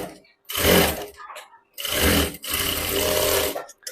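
A sewing machine runs in bursts, stitching a hook strip onto a blouse half an inch in, with loud whirring runs separated by short pauses.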